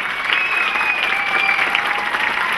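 Audience clapping at a karate belt ceremony, a steady, moderately loud wash of many hands in a hall, with a faint high tone running through it.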